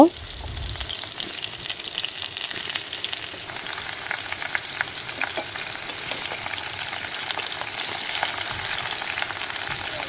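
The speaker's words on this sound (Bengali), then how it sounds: "এখন আমি কড়াইয়ে একে একে আমগুলো দিয়ে দিব" Raw mango pieces frying in hot oil in a wok with dried chillies and bay leaves for pickle, a steady close crackling sizzle with scattered pops throughout and no talking.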